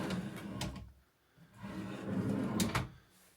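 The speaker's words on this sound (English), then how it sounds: "All on soft close, self-closing runners." A soft-close drawer on self-closing runners glides shut inside a fitted wardrobe, heard as two quiet sliding rumbles with light thuds, close and alone with no talk.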